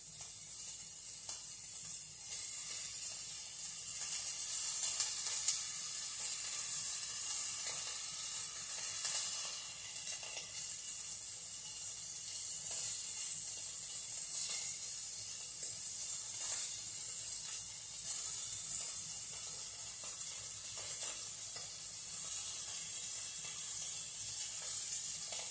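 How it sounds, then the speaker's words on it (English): Bacon cooks in a skillet over medium-low heat, making a faint, even hiss that holds steadily throughout without breaks. "I like medium-low temperature to cook bacon"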